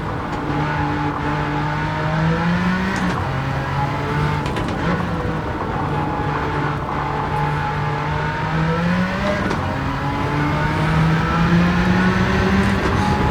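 A 1992 Jaguar XJ220 races at Trial Mountain in Gran Turismo 7, its engine droning loud and steady, rising through gears with brief dips at shifts, without talk.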